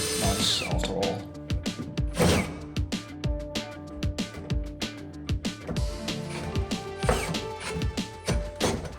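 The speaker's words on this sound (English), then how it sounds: "With big hole saws like this, it's always hard to not have it bite." A large hole saw chewing through steel roll cage tubing on a Volvo 240 race car, a loud, continuous grinding drill run broken by repeated sharp catches and ratcheting bites.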